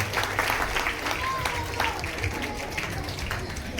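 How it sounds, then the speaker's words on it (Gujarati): Audience applause at a Gujarati public ceremony marking a prime minister's birthday and a green India tree-planting drive, a dense steady clapping from a crowd with a voice talking over it. "ચંદ્રેશભાઈ, ખૂબ જ નિષ્ઠાપૂર્વક એમનું કામ અને ખૂબ ખૂબ તાળીઓ એમના વતી ફરી એકવાર થઈ જાય."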